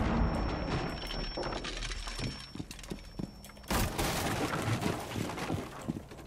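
Frag grenade thrown in Rainbow Six Siege, a sharp explosive crack near the middle followed by debris and scattered game gunfire, loud and close throughout, with steady background game noise.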